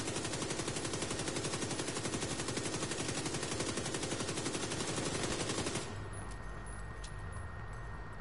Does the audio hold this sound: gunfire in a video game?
yes